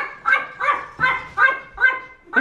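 A dog barks six times in a steady rhythm, close and fairly loud, each bark short and sharp.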